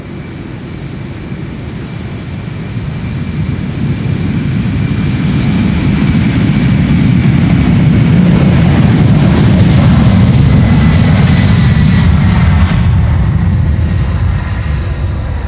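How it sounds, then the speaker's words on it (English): A Singapore Airlines cargo jet takes off from Polderbaan runway 36L at Amsterdam Schiphol, its engine roar swelling from a steady rumble into a loud, sustained broadband thunder that holds to the end. "Singapore Airlines cargo on its way"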